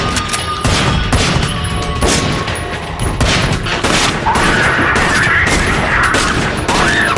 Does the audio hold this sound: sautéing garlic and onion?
no